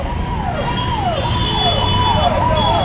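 Police car sirens wail on a street in Palwal, a repeating falling yelp cycling steadily and fairly close, with a higher steady tone and traffic rumble underneath.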